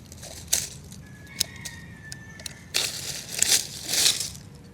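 Dead, dry rosemary branches being cut and crushed during pruning, giving close crackling snaps and rustling crunches in irregular bursts, with a faint whistle-like tone in between.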